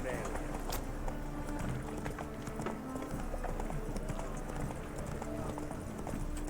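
Roach, a horse in The Witcher, gallops in a steady, quick clip-clop that stays close but fairly faint under game ambience and music, with a voice speaking over part of it.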